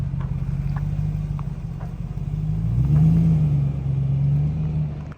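A Lexus GX470 with an aftermarket overland exhaust rumbles in a deep, steady idle that swells briefly in a mild rev midway before settling back.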